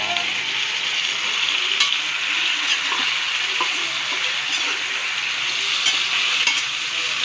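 Fried pork chop pieces sizzle steadily in a hot pan while being stirred, a constant close crackling hiss with occasional scrapes of the utensil.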